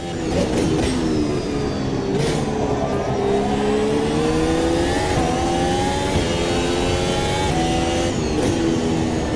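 F1 race cars running in a tight pack in the AMS2 (Automobilista 2) racing game: loud, continuous high-revving engines whose overlapping pitches rise and fall together as the cars jostle close by.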